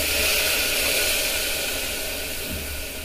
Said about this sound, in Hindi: हम इससे 3 कटोरी पानी डालेंगे।